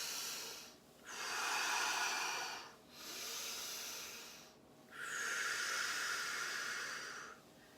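Slow, deep breaths during a seated chair yoga exercise: three long, breathy inhales and exhales, close and soft, with brief pauses between them and no talking.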